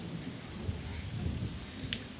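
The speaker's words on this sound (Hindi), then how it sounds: "बारिश हो रही है।" Rain falls in a hometown in Uttarakhand as a soft, steady hiss with a faint low rumble beneath it, continuous and fairly quiet, with no voices.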